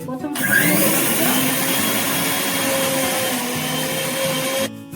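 A mixer grinder runs steadily, grinding poppy seeds with a large green chilli into paste; the dense whirring motor drone holds loud and continuous, then stops abruptly near the end.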